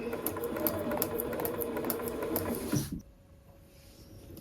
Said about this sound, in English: Line everything up, drop the presser foot, and let's start sewing.